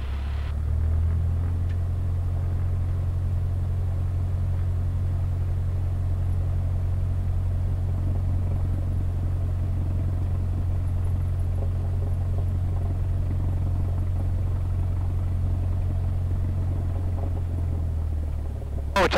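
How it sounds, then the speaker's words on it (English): A light aircraft's engine drones steadily as the plane taxis in line before takeoff, a loud, constant low rumble heard from inside the cabin that holds evenly throughout, with no talking. "So you want to add some power to get the aircraft rolling"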